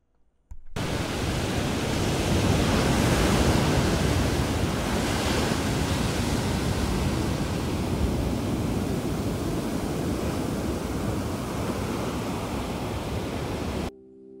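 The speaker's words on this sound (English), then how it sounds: "Let's take a second to listen to the ocean." Pacific Ocean waves wash in a steady, loud roar of surf with wind, a continuous broadband rush lasting throughout with no voices.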